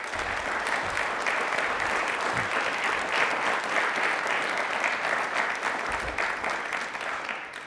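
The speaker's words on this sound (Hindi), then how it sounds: "नासा के लिए एक बार तालियां जोरदार होनी चाहिए प्लीज।" Sustained applause from a large audience, steady and loud throughout with no break.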